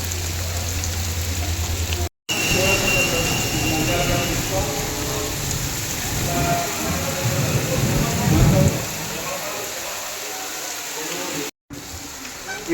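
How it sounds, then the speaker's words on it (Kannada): Rain pours steadily at Gooty railway station during a long cycling journey, a dense, even hiss of drops on surfaces that runs close and constant for the whole stretch, briefly cut out twice. "ಈ ಮಳೆ ಬಂದುಬಿಟ್ಟು"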